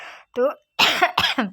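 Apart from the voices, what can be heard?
woman coughing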